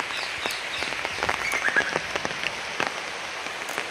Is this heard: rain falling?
yes